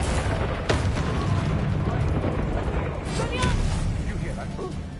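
Spell blasts and explosions in the video game Hogwarts Legacy, loud rumbling booms and crackling impacts layered over dense battle noise, with a voice speaking through it.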